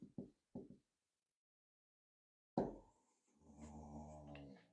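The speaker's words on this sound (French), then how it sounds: "C'est Sheldon, son chien, qui nous fait des petits bruits" A dog makes small noises: a few short snuffling or knocking sounds, a pause of silence, then a louder huff followed by a sustained low, droning growl-like rumble close by.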